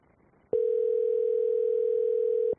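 A telephone tone sounds on an outgoing call placed from a radio studio: one steady, loud tone held for about two seconds, heard alone with nothing underneath.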